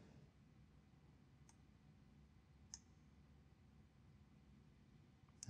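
Sharp computer mouse clicks while selecting options in a software setup screen, a few isolated clicks spaced about a second apart with a louder one at the end, over a quiet background hum.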